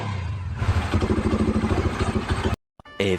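A Honda RS 150 motorcycle with a newly replaced Sovko spark plug fires up and settles into a loud, close, steady chugging idle, then cuts out abruptly before briefly catching again.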